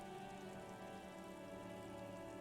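Rain pours down over a city of four-story buildings in the game Disco Elysium, a constant, dense wash of drops that stays even and unbroken for the whole stretch.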